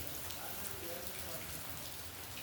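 Rain falls at a building site with a soft, even hiss that holds steady throughout, fairly quiet and without distinct drops standing out.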